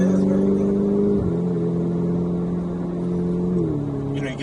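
A car engine in race mode hums with smooth, even power, its pitch stepping down twice as gears shift, heard from inside the cabin.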